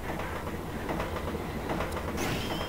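A moving train in the Megaman Zero 2 train stage, a video game, rumbles continuously with rhythmic clickety-clack wheel beats and a brief high squeal near the end, loud and steady with no speech.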